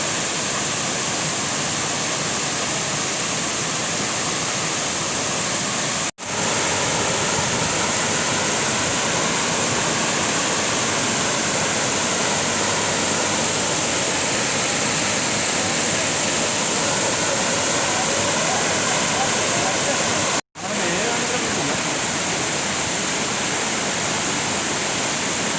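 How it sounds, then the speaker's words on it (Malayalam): The Punnayar waterfall, a fairly large fall dropping water from a great height, gives off a steady, loud, dense roar that holds on without a break apart from two momentary dropouts. "അത്യാവശ്യം വലിയൊരു വെള്ളച്ചാട്ടം കേട്ടോ അത്"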